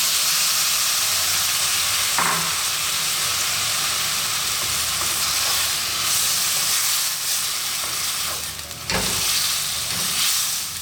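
Prawns with a can of crushed tomatoes frying over high heat, a loud, continuous close-up sizzle and hiss with brief knocks and stirring bumps, no voices.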